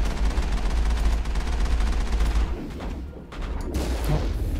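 Sniper gunfire from enemy snipers in the game Mass Effect, a dense stream of loud rapid shots that breaks off briefly partway through, then resumes.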